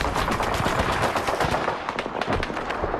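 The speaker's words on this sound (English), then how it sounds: "It's an MG-42!" An MG-42 machine gun fires near a trench in the Call of Duty 2 video game, a loud, sustained stream of rapid shots that rattles on with almost no pause for three seconds.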